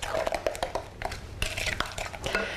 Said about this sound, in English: Put your eggs in, and then you stir. Again, till your eggs are all incorporated into your brown sugar butter mixture.